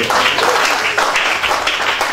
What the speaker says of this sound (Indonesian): Kasih tepuk tangan yang terbaik buat Tuhan.